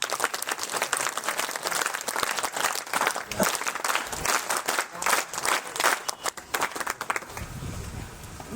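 A crowd claps together at a religious satsang gathering at an ashram. Dense, steady applause fills the room for several seconds, then thins and fades out near the end.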